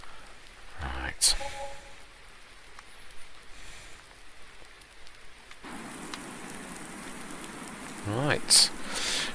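Rain in a farming video game sets in as a soft, continuous patter that thickens partway through, with a brief spoken word and a few sharp clicks.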